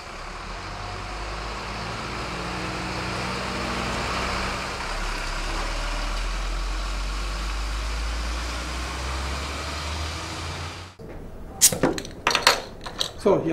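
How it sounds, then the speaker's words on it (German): Forklifts rumble steadily while loading beer pallets onto trucks at the Distelhäuser brewery, a continuous low engine drone that cuts off abruptly, followed by sharp clanks and knocks. "Im Akkord werden die Paletten mit Gabelstaplern auf LKW verladen"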